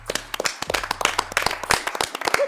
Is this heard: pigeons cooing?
no